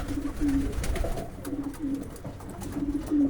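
Viennese flight pigeons cooing in a loft, soft repeated low coos coming in three short phrases over quiet background rustle.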